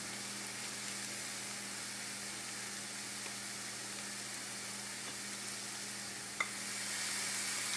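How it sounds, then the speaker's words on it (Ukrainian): Steady sizzling of grated carrot stewing with onion in a pan, a continuous soft crackle with a low hum underneath and one small clink near the end. "до цибулі додаємо натерту морку та тушкуємо кілька хвилин"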